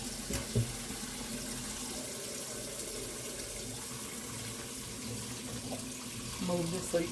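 Tap water runs steadily into a sink while a deep fryer is rinsed clean of oil, with a soft continuous splash and a few brief clinks near the start and end.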